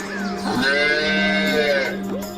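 A bull calf moos loudly in a cattle shed, one long drawn-out crying call running nearly the full length, close and clear with no talk.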